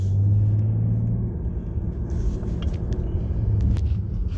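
A loud car with no muffler drives past on the road, giving a heavy, close, throaty engine rumble that swells and then fades slightly as it goes by, with no talking over it.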